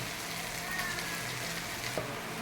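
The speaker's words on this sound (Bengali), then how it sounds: "মশলাটা ভাজা হয়ে গেছে" Ground spices with cumin and coriander powder sizzle in a pan of hot oil for egg curry, a soft, continuous frying hiss with faint crackles and a brief stir near the end.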